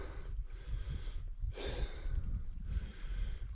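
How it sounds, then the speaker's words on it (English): A hiker breathes heavily on a steep climb toward High Raise in the Lake District, with close, audible huffs and a sharp panting burst in the middle, and no talking. "I'm puffing and panting."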